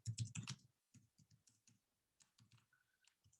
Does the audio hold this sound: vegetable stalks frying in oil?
no